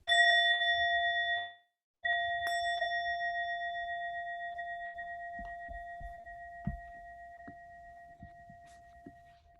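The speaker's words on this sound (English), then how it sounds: "I will ring the bell when we're done." A single bell rings out to end a timed writing session, a clear sustained tone that is struck again after a brief gap and slowly fades, with faint small knocks underneath.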